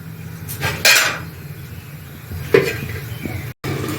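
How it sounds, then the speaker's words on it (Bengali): A metal lid goes onto a cooking pot of drumstick, potato and poppy seed curry, making a couple of distinct clanks and scrapes of metal on metal over a low kitchen hum. "এবার আমি কয়েক মিনিটের জন্য ঢাকনা দিয়ে ঢেকে রেখে দেব।"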